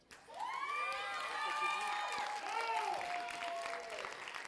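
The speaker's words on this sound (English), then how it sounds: "Applause is definitely appropriate." A school spring-concert audience claps after a student's original composition. Sustained applause is mixed with loud whoops and cheering voices that ride over the clapping throughout.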